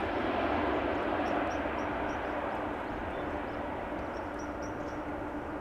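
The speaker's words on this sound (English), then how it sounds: "German Airways, Embraer 190" A German Airways Embraer 190 at Amsterdam Schiphol gives off a steady, broadband jet roar of even loudness from start to finish, with faint chirping sounds flickering above it.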